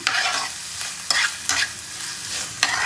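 Onions fry toward golden in a pan for pav bhaji, a steady sizzle broken by several sharp spatula scrapes as they are stirred, close and without speech.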